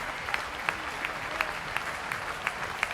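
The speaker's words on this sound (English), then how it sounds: "But keep the applause going for all the riders, ladies and gentlemen" Steady applause from a crowd for the riders at the 2012 Junior Track Cycling World Championships, an even wash of clapping with a few louder individual claps standing out, continuing without a break.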